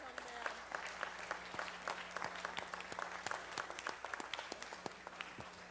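Applause for budget staff at a city council special budget meeting: steady clapping from a crowd fills the room throughout, with a continuous low hum beneath.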